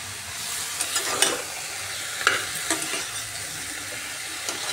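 Ash gourd pieces with sidol, chili and salt are sautéed with spices in a pan, giving a continuous close sizzle broken by several scraping stirs of a spatula.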